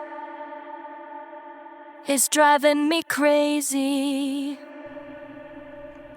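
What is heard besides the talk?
vocals processed with UJAM UFX-Reverb, filter and finisher effects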